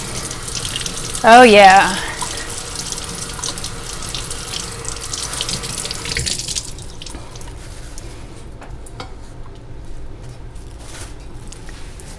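Tap water runs steadily over vintage Tupperware being cleaned, a loud hissing stream that stops after about six seconds, leaving quiet drips and handling noises, with a brief spoken remark.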